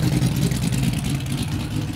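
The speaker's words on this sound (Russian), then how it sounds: "Выхлоп вообще, да, просто бешеный" A Mercedes W116 engine and exhaust runs after a gearbox replacement, a close, steady low rumble with a throaty exhaust note, alone without talk.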